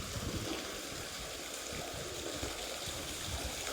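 Irrigation water flows through a field channel with a faint, continuous rushing and gurgling wash, steady and unbroken.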